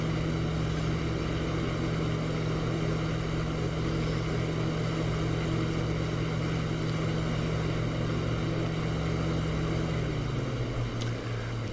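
Twin propeller engines of a de Havilland Mosquito bomber in the DCS flight simulator, a steady loud droning hum that holds throughout, with the engine note dropping slightly near the end.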